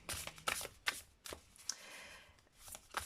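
Love-language oracle cards being shuffled by hand, soft riffling bursts and flicks in uneven rhythm, close and quiet.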